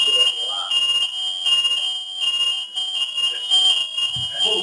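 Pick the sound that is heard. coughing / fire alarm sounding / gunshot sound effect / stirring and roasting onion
fire alarm sounding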